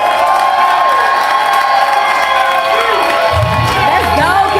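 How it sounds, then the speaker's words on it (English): Audience at a live spoken-word poetry show in Chicago claps and cheers loudly and continuously, a dense wash of applause with whoops and shouts filling the room. "Y'all clap it up for LP Love Personified."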